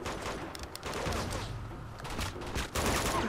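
Rapid M4 rifle fire in the video game Uncharted 2, a dense, sustained burst of shots heard close and loud throughout, with no voices over it.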